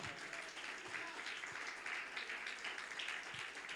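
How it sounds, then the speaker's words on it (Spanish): A church congregation claps during a Spanish-language sermon, a faint, even patter of many hands heard from a distance, steady throughout with no clear voices over it. "Denle un fuerte aplauso al Señor"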